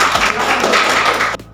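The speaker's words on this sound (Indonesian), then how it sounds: "Tepuk tangan buat Gilang dan Ramji." Brief burst of applause for two people, Gilang and Ramji, at the close of an Indonesian teacher-training session, dense hand claps filling the room and then cutting off abruptly.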